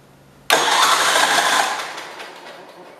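A 1971 tractor engine cranks during a spark test, bursting in abruptly as a loud, dense whirring churn that holds for about a second before gradually fading.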